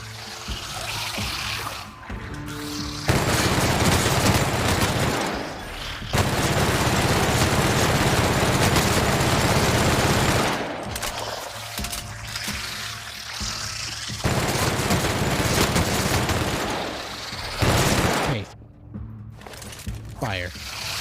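Dense, sustained video game gunfire from The Outer Worlds, fired in long loud bursts separated by brief pauses, close up and filling the scene, with a little talk at times.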